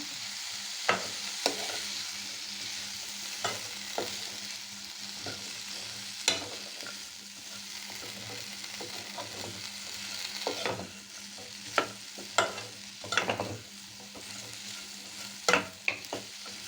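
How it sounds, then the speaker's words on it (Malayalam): Okra stir-frying in hot oil for a simple lunch: a continuous soft sizzle, broken by scattered clinks and scrapes as the pan is stirred, with no talking. "ഇത് വെണ്ടയ്ക്ക അതിലോട്ട് ഇടുക നല്ല വയറ്റി കൊടുക്കുക"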